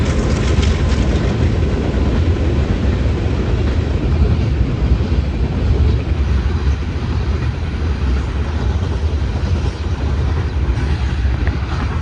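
A train rolls past close by in a village setting, a loud continuous rumble with steady clattering wheels that fills the whole stretch without a break.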